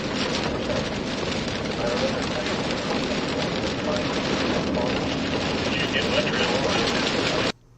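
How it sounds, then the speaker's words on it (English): Dense, steady roar of heavy rain pouring down without letup, loud and close, ending abruptly at the very end. "As you can see, they found the heavy rain."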